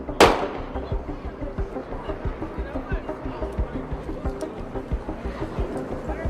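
A single sharp gunshot at a memorial, heard as one loud crack near the start over muffled crowd noise and talk.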